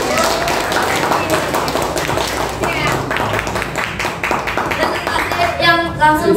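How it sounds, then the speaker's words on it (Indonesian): Indonesian ninth-grade class clapping in a classroom, a steady dense patter of many hands that carries through the whole stretch at a constant level, with a few louder claps near the end. "Sekali lagi tepuk tangan semangatnya."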